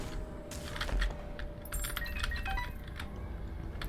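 Keys are picked up in The Binding of Isaac Afterbirth+, giving bright metallic jingling chimes in a few quick bursts over steady game music, with no talking.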